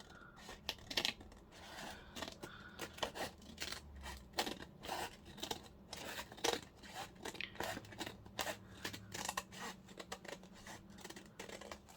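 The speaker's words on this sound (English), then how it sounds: "Doesn't really matter if I snip the envelope." Scissors snip steadily around a paper envelope, a rapid run of close, crisp cuts and papery rustles continuing throughout.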